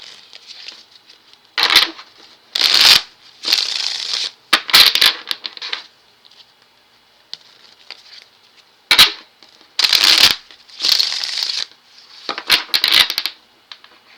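Tarot cards shuffled in repeated bursts of crisp riffling and slapping, each lasting about a second with short quiet gaps between, close and fairly loud with no talking.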